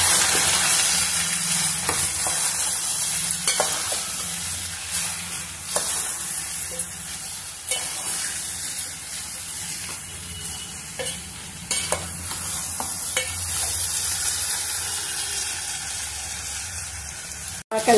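Field beans cooking in oil in a pan, with continuous sizzling and frequent scraping strokes of a spoon stirring, close and fairly loud, with no one talking.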